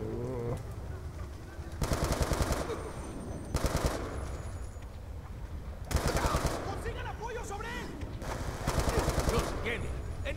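Bursts of automatic gunfire in the Call of Duty Black Ops 2 campaign, four or five loud rapid-fire volleys separated by short pauses, with game ambience and someone speaking German in the gaps.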